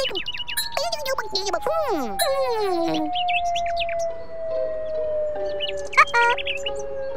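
Cartoon birds chirping and tweeting in a quick run of bright, sliding calls, close and clear, with a long thin tone underneath and a few later chirps.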